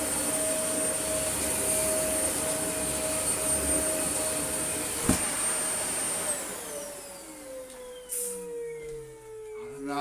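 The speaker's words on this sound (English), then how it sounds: "the whole cleaner head is skimming the top of it" Dyson UP22 Light Ball upright vacuum cleaner running on dense carpet, a steady loud motor whine with a sharp bump midway, then the pitch sliding down as the motor winds off near the end.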